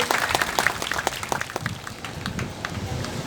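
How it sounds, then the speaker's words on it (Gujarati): An outdoor crowd at a village folk dance event on Independence Day claps in a brief, dense burst of applause that thins out toward the end. "જોરદાર તાળીઓથી વધાવી લઈએ।"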